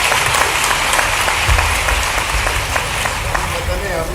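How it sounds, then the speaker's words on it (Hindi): Crowd applause at a public event in Bhopal, continuous dense clapping from a large audience, loud and sustained with a voice coming through over it. "जोरदार तालियां बजाइए।"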